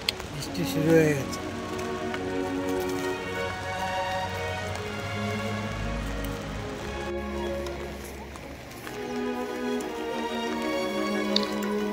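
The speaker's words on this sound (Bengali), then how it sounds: "বৃষ্টি শুরু হয়ে গেছে।" Rain falling on the trek to Manimahesh, a steady wash of patter on surfaces throughout, with people talking over it and faint clopping in the background.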